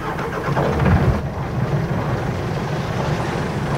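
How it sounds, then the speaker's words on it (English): A sailboat's engine turns over and catches, settling into a steady mid-pitched idle with a low rumble; a louder burst at the start gives way to an even, continuous running drone up close. "And then we'll start the engine."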